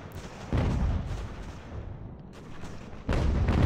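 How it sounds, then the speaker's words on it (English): Mortar company firing in Ultimate General: American Revolution during the British invasion of New York: deep booming blasts, one heavy report near the start and another late, over a continuous rumble of distant battlefield fire. "This is a mortar company."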